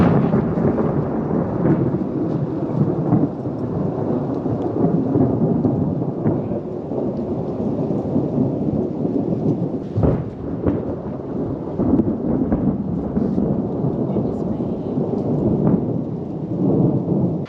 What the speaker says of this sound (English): I think that thunderstorm is pretty much going to be on top of us soon.